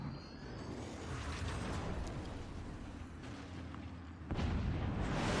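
A howitzer fires in the strategy game Forts, a dense, sustained low-frequency rumble with a louder booming burst near the end.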